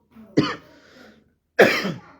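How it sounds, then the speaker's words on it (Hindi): Two harsh coughs, close to the mic, separated by a short pause, with a faint rasp trailing the first. "अब मुझे खांसी तेज हो रही है"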